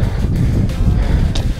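Heavy, steady wind buffeting the microphone while riding a Cannondale Trail SL2 bicycle, a low rumbling roar that fills the whole stretch with no pauses.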